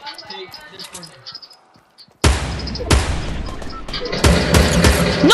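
Gunfire in the video game Fortnite bursts in suddenly after a quieter stretch, dense rattling shots and booms continuing loud to the end, with a player's voice talking underneath.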